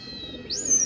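Brief bird calls from a fighting pigeon kept by hobbyists, a short soft coo with a rising chirp and a thin whistle-like tone near the end, moderately close and alone.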